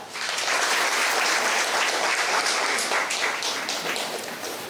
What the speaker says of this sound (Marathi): सगळ्या उपस्थितांसाठी एकदा जोरदार टाळ्या